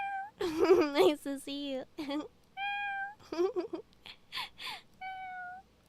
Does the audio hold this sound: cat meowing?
yes